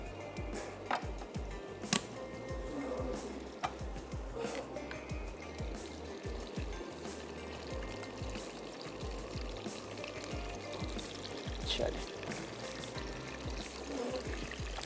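Tomato puree is poured into a pan with oil and ginger-garlic paste while making matar paneer, a continuous close sizzle and wet pouring trickle with small clicks and scraping sounds over a low kitchen rumble.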